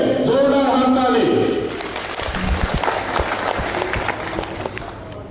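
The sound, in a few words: applause for Manoranjan Kumar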